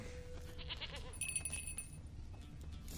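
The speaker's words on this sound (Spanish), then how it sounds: "Allá está la cabra." Goat in The Witcher 3 game letting out a brief quavering bleat amid soft outdoor ambience, faint and somewhat distant.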